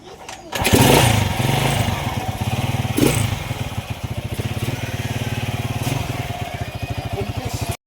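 A Honda TMX 155 motorcycle engine with a misfiring fault starts up loud and close, then runs in a rough, uneven putter with irregular stumbles.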